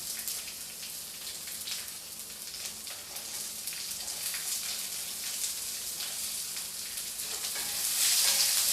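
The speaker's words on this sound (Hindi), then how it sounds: "अनियन को मैं हल्का सा गोल्डन ब्राउन होने तक फ्राई कर लूँगी" Chopped onions frying in a pan for oats idli, a continuous dense sizzle with fine crackling pops that swells louder in the last second, no talking.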